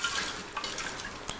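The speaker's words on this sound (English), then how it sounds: "we're going to swirl the hot water around in our jar" Hot water sloshes and swirls around inside a glass jar, a close, light watery churning with a few brief clinks against the glass.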